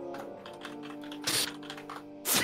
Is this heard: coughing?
no